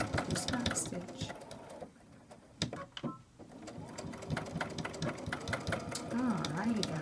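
A sewing machine runs in quick, rhythmic stitching bursts up close while back stitching a fabric clutch wallet, pausing briefly partway, with someone talking over it.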